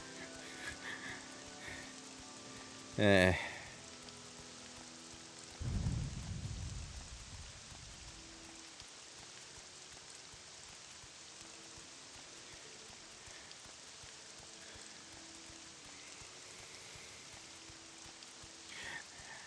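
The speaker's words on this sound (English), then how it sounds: "I jogged through a thunderstorm for you." A thunderstorm in the video game Morrowind brings steady rain hiss, a sharp crack and a deep rolling thunder rumble that fades slowly under the rain.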